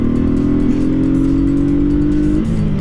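A motorcycle engine revs loud and close in Florida, one steady rising drone with harmonic whine holding for a couple of seconds before easing off as the rider pulls away.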